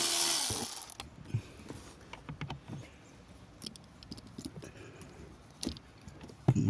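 Small ratchet turning a T20 Torx bit while removing screws during a blower motor replacement on a 2012 Chrysler Town and Country, quiet scattered clicks close by, no talking.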